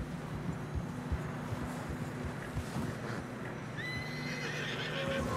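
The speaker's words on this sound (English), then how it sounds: "Horses are struggling." Horses whinny and neigh while trudging through deep fresh snow on a narrow trail in Red Dead Redemption 2, with hoof thuds, steady wind and rising calls near the end.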